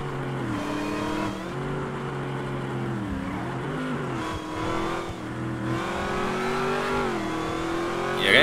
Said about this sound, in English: Yeah, that Jeep so fast.